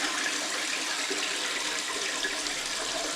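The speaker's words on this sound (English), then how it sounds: "So it pours a good amount of water, and that's what we want to achieve." Toilet flushing after a handle replacement, a steady rush of pouring water close by that keeps flowing at an even level the whole time, with no talk.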